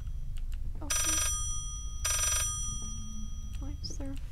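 An old-fashioned telephone bell in the horror game Layers of Fear, two loud, shrill bursts of ringing about a second apart, with a voice speaking briefly between and after the rings.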